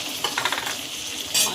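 Potatoes frying with onions in a pan are stirred with a utensil, giving a few quick scraping strokes over a soft background sizzle, with a louder burst of sizzling near the end.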